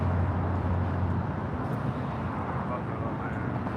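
An El Al Boeing 787-9 Dreamliner taking off from LAX bound for Tel Aviv, a broad low jet roar with rumbling lows, steady and moderately distant across the few seconds.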